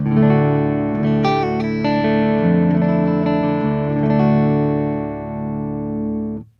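A clean electric guitar, an Aristides 060, played straight through a bypassed vibrato pedal into a Hughes and Kettner Tubemeister Deluxe 20 amp, rings out in sustained chords for about six seconds before cutting off abruptly.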